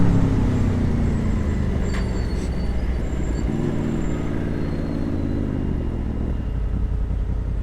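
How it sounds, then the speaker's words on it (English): Heavy road traffic with buses and cars rumbles nearby as engines idle and pull away, a brief hiss like an air brake cutting in early and a low drone shifting in pitch as vehicles move off; no one speaks. "sitting in traffic"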